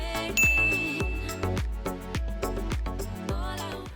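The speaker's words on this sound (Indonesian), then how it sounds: "bunyikan lonceng" Bright bell-like dings and chimes ring over a rhythmic musical backing, several struck tones in quick succession with a sustained tinkling note near the start, moderately loud.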